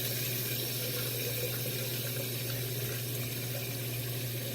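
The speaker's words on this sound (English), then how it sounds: "Let me wet my head and face again real quick." A bathroom tap runs in a steady, continuous stream to wet the head and face before a head shave, close and even throughout, with no talking.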